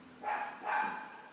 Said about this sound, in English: Everybody's got a dog and the dogs like to talk.